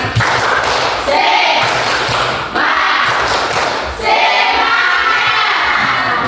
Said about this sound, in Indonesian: Tepuk tangan semangat dulu, ya.